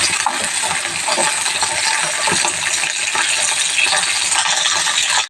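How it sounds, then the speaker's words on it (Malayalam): Okra dropped into hot oil for a coconut-roasted sambar sets off a loud, dense, continuous sizzle and crackle that holds steady for several seconds, close up, with no voices. "ഈ ചൂടായ എണ്ണയിലേക്ക് നമ്മുടെ വെണ്ടയ്ക്ക ഇട്ട് കൊടുക്കാറ്"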